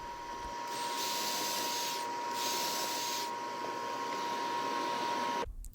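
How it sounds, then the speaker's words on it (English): Pocket holes being drilled into the ends of wooden boards for a raised planter box with a pocket hole jig: two sustained high-pitched drill whines over a steady motor hum, each about a second long, then a sudden stop. "you're going to put 2 pocket holes on each end of the top and bottom boards"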